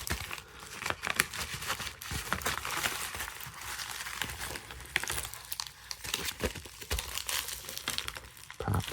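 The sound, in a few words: game disc packed into a bubble mailer, crinkling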